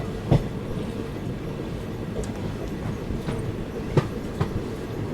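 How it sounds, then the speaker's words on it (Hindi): A train departs on the main line near a river crossing, heard from aboard another passenger train as a steady rumbling roar with occasional sharp wheel clicks and clanks spaced through it, no voices. "ये मेन लाइन पे किसी ट्रेन का डिपार्चर हुआ"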